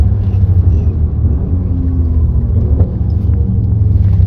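Steady low rumble of a racing car's Ferrari-derived engine, a continuous heavy drone close by with no voices over it.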